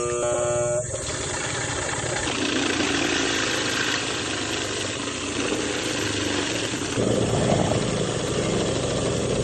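A motorized grater shreds sweet potato and cassava, a loud continuous engine drone with a grinding, rasping texture that shifts in pitch as the load changes, close up throughout.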